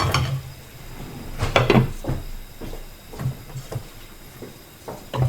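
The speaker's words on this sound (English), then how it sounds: "I'm just going to cover this quickly." A lid goes onto a cooking pan of chicken in stock with a few light clanks and knocks, then scattered clatter and rattles of cookware nearby, moderately loud, with no talking.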